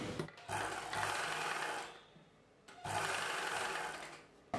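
A sewing machine stitching a lining piece onto a blouse neckline runs in two steady, close whirring bursts, separated by a short quiet pause.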